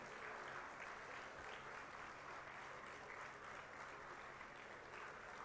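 A large convocation-ceremony audience gives a sustained round of applause for an invited chief guest, dense and steady clapping that fills the whole stretch without a break.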